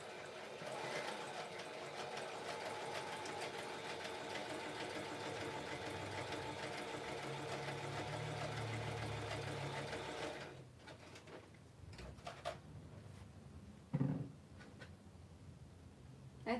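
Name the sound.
sewing machine stitching fabric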